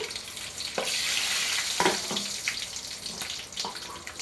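Mustard tempering seeds and dried red chillies fry in hot groundnut oil, a continuous close sizzle with sharp crackling pops scattered through it and no talking.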